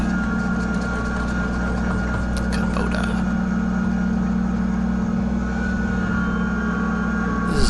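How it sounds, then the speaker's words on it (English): A Kubota BX25 small tractor runs steadily nearby with a low, even engine drone and no talk over it, and a faint clank comes near the end. "This is a very small tractor compared to an excavator contractor's tractor."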